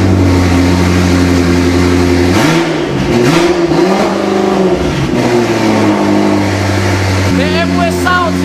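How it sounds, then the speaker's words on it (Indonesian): A loud BMW M6 engine idles low, then revs up in several sharp surges and settles back, with a brief crackle near the end; nearby voices murmur underneath. "BMW sound, you know."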